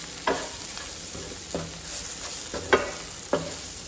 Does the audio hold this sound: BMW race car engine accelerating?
no